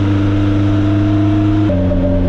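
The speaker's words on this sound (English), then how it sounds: "you got that fuel washing through to the exhaust, and you can just hear it crackling in the exhaust" Freshly built Ford Crossflow race engine in a TVR idling loudly and steadily, its low mid-range drone shifting pitch slightly partway through, with faint crackle in the exhaust.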